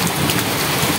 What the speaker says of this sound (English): the rains have stopped us